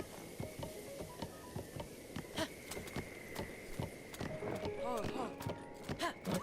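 A horse gallops up in Zelda: Breath of the Wild on Master Mode, its rhythmic hoofbeats clopping near and fairly loud, mixed with game ambience while a player talks over it.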